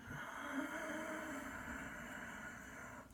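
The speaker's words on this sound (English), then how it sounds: "Ujjayi breath sounds like this" A slow Ujjayi breath exhale, a steady raspy hiss from the back of a narrowed throat, held evenly for about three seconds at low, close volume with no talking.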